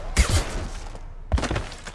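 Gunfire bursts in a firefight in the video game Mass Effect 2, two sharp loud volleys about a second apart with some shot debris between them.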